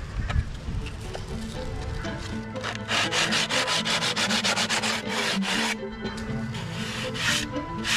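Hand sanding of a van seat with coarse 60-grit sandpaper: steady, close scratchy back-and-forth strokes in a continuous rhythm, growing louder and denser midway through.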